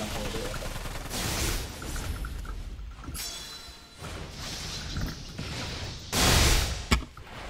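Bursts of gunfire in a shooting video game, fired at a player: several loud sharp volleys and clattering mechanical shots scattered among quieter stretches, with voices talking at times.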